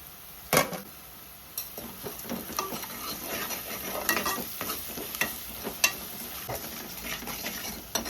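Spice masala with turmeric, chili powder and salt frying in a pan, a steady close sizzle with repeated clinks and scrapes of a stirring spoon against the metal throughout.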